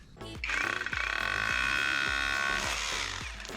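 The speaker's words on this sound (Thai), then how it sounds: "เดี๋ยวจะสกัดแผ่นปูนชิ้นนี้ให้แบบเปิดด้านหน้าไปเลย" Loud OSUKA cordless rotary hammer chiseling a cement slab, hammering in a steady fast rattling burst after a short start, with a few heavy knocks, close and alone.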